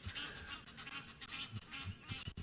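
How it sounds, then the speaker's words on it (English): Egyptian geese honk repeatedly in loud, rough bursts at a sunrise safari in the African bush, several calls overlapping in an irregular rhythm close by. "Nadine, I think Marips would love to grab one of those Egyptian geese, but he's not really bothered about the noise like we are."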